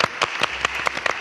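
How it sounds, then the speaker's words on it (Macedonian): Studio audience at a Macedonian talk show breaks into applause, short sharp clapping bursts arriving in a quick, uneven rhythm over about a second, fairly close and moderately loud. "Аплауз за вас."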